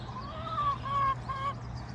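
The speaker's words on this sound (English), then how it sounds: "Not Mayonnaise, the chicken" A farmyard chicken gives a few drawn-out clucking calls in quick succession, fairly close, over a low steady background hum.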